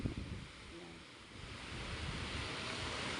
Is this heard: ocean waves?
yes